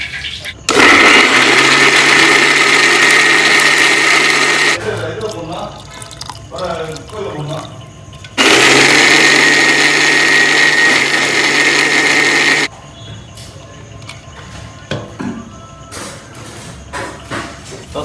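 A kitchen mixer grinder whirs loudly, grinding pepper, cumin, dried chillies, curry leaves and coriander for rasam, in two long bursts. Between the bursts come rattling, tapping and shaking sounds.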